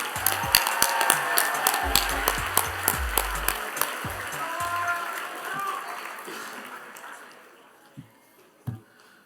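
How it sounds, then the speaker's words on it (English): Applause from a rally crowd at a gun violence prevention event on the Hill, a spread of clapping that fades over several seconds, with scattered sharp taps and some voices mixed in, ending in a few isolated claps. "Give them a round of applause, guys."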